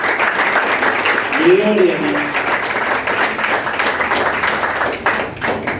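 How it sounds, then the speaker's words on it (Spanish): A church congregation gives a round of applause to the Lord, the clapping sustained and fairly loud, with a voice speaking briefly over it. "Den un aplauso, por favor, a nuestro Señor."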